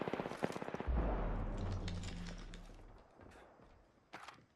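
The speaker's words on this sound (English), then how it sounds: "Firing on subject." Rapid automatic gunfire in the battle-royale shooter Apex Legends, a dense loud burst with low booming body lasting a couple of seconds, then fading, followed by a few sharper isolated shots near the end.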